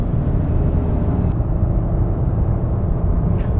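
A naturally aspirated 2024 Suzuki Swift engine pulling in third gear with the throttle floored, a steady low rumbling drone heard from inside the car, constant and moderately loud.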